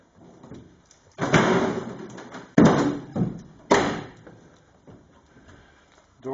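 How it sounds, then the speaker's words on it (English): The door of a 1947 Cadillac swings shut on its own during windshield installation. Several close, heavy thuds and rattling impacts come in a series over a few seconds, with no voices. "Door just decided to self-close."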